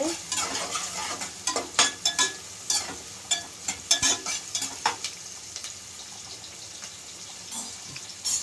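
Onions frying in a pan until golden for a Telugu home-style chicken curry, with steady sizzling and frequent sharp scrapes and clinks of a stirring spoon, close and alone with no talk.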